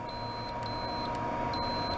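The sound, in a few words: ohm meter continuity beep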